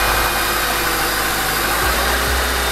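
Honda Stream with a D17 engine running steadily after a tune-up, a loud, close, even idle with constant low droning hum and no voices.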